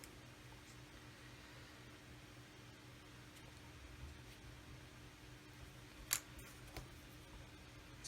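A couple of sharp, quiet snips as a wooden cocktail stick is trimmed during a Roden 1/144 C-141B Starlifter model build, with a single crisp cut followed by a smaller one against a faint, steady room hiss.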